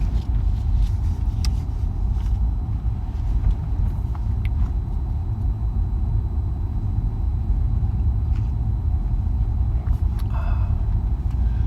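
A car cruising slowly at about 25 mph on a Sunday morning drive near Kingsland, Texas, with a constant low engine and road rumble and a few faint clicks and rattles inside the cabin.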